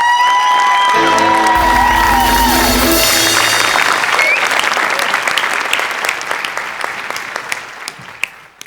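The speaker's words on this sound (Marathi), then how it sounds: "एकदा उभं राहून टाळ्या वाजवा." A standing audience at a Marathi comedy show stage event bursts into loud, sustained applause with a few cheers, while music plays underneath at the start; the clapping thins and fades toward the end.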